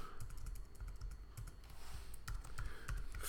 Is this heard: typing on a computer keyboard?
yes